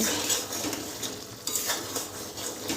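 A spoon stirs boiling taro stolons and potatoes in a pot, making a few soft scraping strokes against the metal over a bubbling background, close and moderately quiet.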